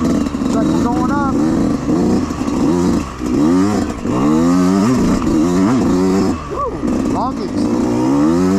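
Motocross motorcycle engine held at high revs with the throttle pinned while climbing an uphill section of a dirt track, a loud continuous droning whine with rising and falling pitch sweeps, with a person talking over it.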